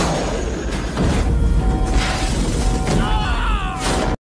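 A massive meteor explosion blast in a disaster film about a 100-metre tsunami, a loud sustained roaring rumble with booming low end and whooshing debris lasting about four seconds before cutting off abruptly.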